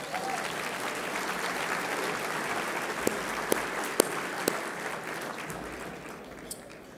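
A crowd applauds at an annual business dinner, with dense, sustained clapping that fills the room for several seconds, a few louder claps standing out before it slowly fades.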